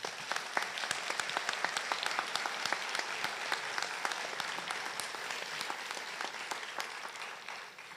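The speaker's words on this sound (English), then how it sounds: "Let's give them another round of applause." Audience at a high school honor graduate ceremony applauding, sustained brisk clapping from many hands, fairly distant and even, tapering slightly at the close.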